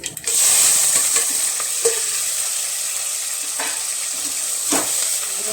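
Onion, potato, tomato and curry leaves go into hot oil with mustard seeds and cumin, giving a loud, steady sizzle and hiss throughout with a few soft stirring knocks, close to the pan and with no voices.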